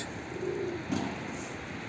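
Soft, low pigeon cooing, a couple of brief murmuring phrases over a steady background hiss.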